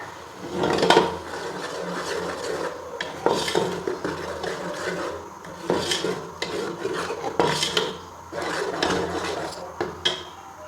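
Tomato paste and green chili paste being sautéed in a pan for a spicy turnip and pea dish, with steady stirring and scraping of a utensil against the pan and periodic louder clinks, no voices.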